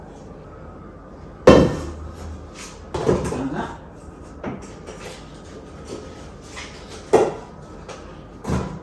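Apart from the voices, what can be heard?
cooking pot being handled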